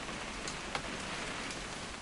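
Steady rain falling in the video game What Remains of Edith Finch, a soft continuous hiss with a faint drop or tap, quiet and unbroken.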